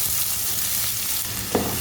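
Onions sizzle steadily in hot oil for a cauliflower masala fry, a constant crackling hiss with a brief stir scraping near the end.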